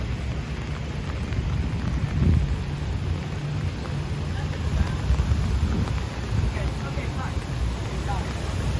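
Steady rain falls during a late-night walk through Midtown Manhattan, a continuous broadband wash over low city rumble with no distinct breaks.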